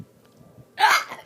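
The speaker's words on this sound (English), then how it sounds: "these are my real hiccups, and they're not fake at all. I just hiccup up like this" One short, sharp hiccup from a person, close and fairly loud after a quiet moment.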